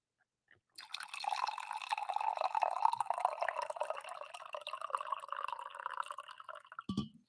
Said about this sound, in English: I need to pour some coffee.